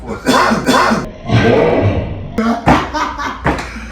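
A man coughs at close range in a casual indoor conversation among several men, the harsh bursts breaking up steady, loud chatter and talking that continues around them.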